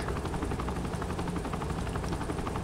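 Helicopter rotor chopping steadily and loudly throughout a Saints Row game scene, a dense continuous thrum with regular blade pulses and no pause.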